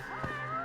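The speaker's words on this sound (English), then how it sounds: "Hey, cat!" A cat meows in the video game Judgment, a single close, clear mew with a rising then falling pitch, short and alone against a quiet background hum.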